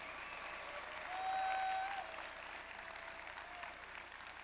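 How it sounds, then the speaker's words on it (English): An audience claps steadily throughout, a dense soft patter of many hands, with a brief whistle-like tone rising above it midway. "Somebody clap your hands if you believe that that's possible."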